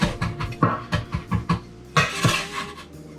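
Cauliflower tossed with smoked paprika and onion powder in a bowl, heard as a quick, uneven run of close utensil clinks and scrapes against the bowl, with no voices.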